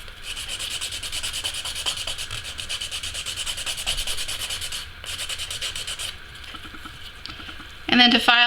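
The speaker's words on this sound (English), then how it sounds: "to file that down, I'm using the 100-180 grit file" A 100-180 grit nail file rubbing down an acrylic nail during removal, with rapid rhythmic scraping strokes close to the microphone and brief pauses and handling sounds near the end.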